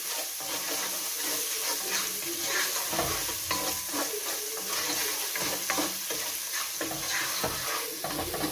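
Tomato paste frying in hot oil in a pan while being stirred, a steady close sizzle and crackle with scraping strokes of the spoon, no talking.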